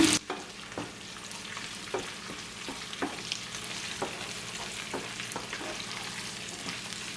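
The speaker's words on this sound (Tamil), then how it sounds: "இப்போ இதை மிக்ஸ் பண்ணி ஒரு மூன்று நிமிஷம் பொரிய விடுவோம்" Shrimp with a pinch of salt sizzles steadily in a pan for a shrimp egg omelette, while a spoon stirs it in regular clicks and scrapes, close and clear.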